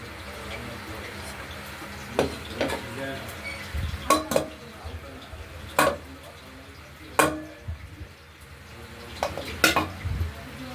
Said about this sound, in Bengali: এরপর আলুগুলোকে ভাজা হয়ে যাচ্ছে।